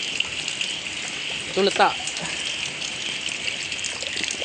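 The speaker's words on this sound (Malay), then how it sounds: "Isi air ni masuk sana sampai penuh." Rainwater gushes and trickles steadily as it fills containers for kaloi fish, a continuous watery hiss with a brief spoken remark partway through.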